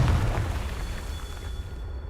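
A Confringo fire spell blast from the Hogwarts Legacy video game, a broad booming burst that starts loud and decays into a rumbling, crackling tail over about two seconds.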